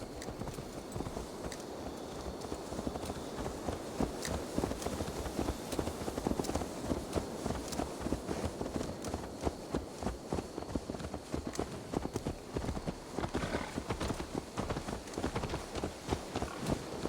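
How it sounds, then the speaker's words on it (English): Horse hooves clip-clop steadily in Assassin's Creed Valhalla, a continuous run of fairly quick, even hoofbeats at a moderate distance with no talk over them. "Let's return the horse"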